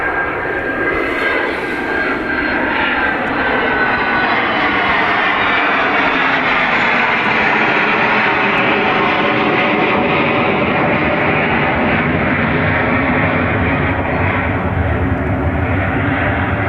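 A fixed-wing airliner takes off from runway 28 right at Dublin Airport, its jet engines roaring loud and continuous for the whole stretch, the sound slowly shifting as the aircraft accelerates and climbs away.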